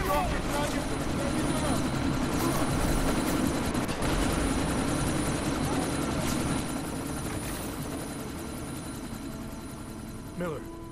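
Helicopter rotor and engine drone in the action game Deus Ex: Mankind Divided, loud and steady throughout with a slight fade toward the end, running under shouted voices and combat chatter.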